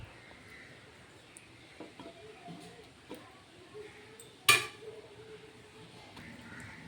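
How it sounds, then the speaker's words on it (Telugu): A metal lid set onto a cooking pot of chicken biryani, a single sharp clink after soft kitchen handling sounds, faint background otherwise. "నేను మూత పెట్టేస్తున్నాను."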